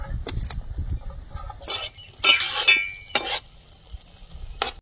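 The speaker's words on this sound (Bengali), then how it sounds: "চুনো মাছটা দিয়ে দেবো, ঝোল ফুটে গেছে" Small chuno fish dropped into boiling curry in a pan for a spicy Bengali fish dish, giving several short bursts of splashing and sizzle, one louder crackling burst in the middle, over a low bubbling simmer.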